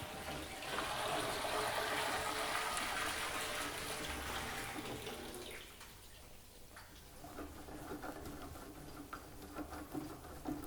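Liquid pouring from a drum into a vessel using a stainless-steel manual drum tipper, a steady splashing gush that eases partway through into a lighter trickle and patter, heard close with no talking.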